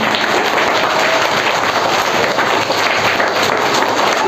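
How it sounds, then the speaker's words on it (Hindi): Schoolchildren in a government primary school classroom clap together, a dense, steady patter of many small hands lasting a few seconds with no pauses. "ताली बजाओ इसके नाम पर"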